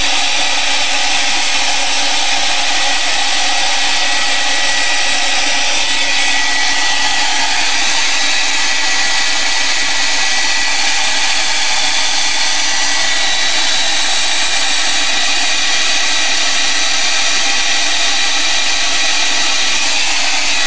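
Steady, loud hair dryer blowing continuously to dry a freshly painted layer on an art journal page, a constant whooshing motor hum with no talking.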